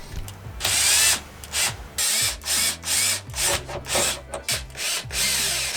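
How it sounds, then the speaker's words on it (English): A power drill whirs in a series of short bursts, drilling holes for a Minn Kota Raptor install on a Vexus AVX boat, grinding rasps between pauses, close and fairly loud. "we'll go ahead and drill the other holes"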